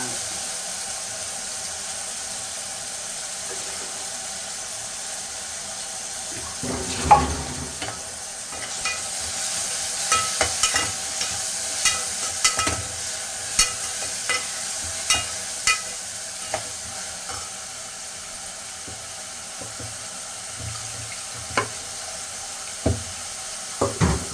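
Tomatoes and mint sautéing in a pan for sambar, with steady sizzling frying and sharp clinks of a spoon stirring against the pan, close and alone.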